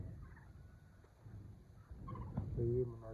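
A hen gives a few low, throaty clucks nearby, quiet at first and growing louder toward the end, over faint background noise.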